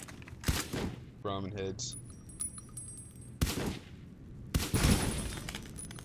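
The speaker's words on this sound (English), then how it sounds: "I'll just shoot everything." Gunfire in the game Fallout: New Vegas, heard as sharp broadband bursts spaced through the clip, with a brief voice speaking between shots.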